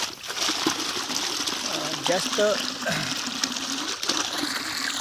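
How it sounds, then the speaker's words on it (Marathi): Water gushes from the 3-inch pipe of a Shakti solar pump in a continuous close rush while someone talks over it. "एवढं पाणी मारत आहे"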